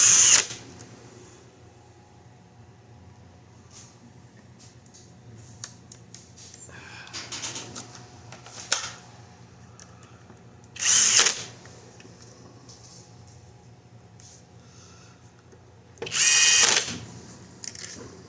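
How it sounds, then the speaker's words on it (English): A power drill drives screws into the rectifier of a 2013 Chevrolet Malibu Denso alternator, three short high whirring bursts spaced apart, with faint handling clicks and a low background hum between them. "We'll reinstall our screws in our rectifier."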